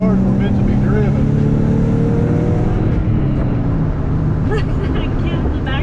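A Nissan 300ZX with new aero drives along Parsons Branch Road, its loud engine a steady, close droning roar throughout, with a voice talking over it.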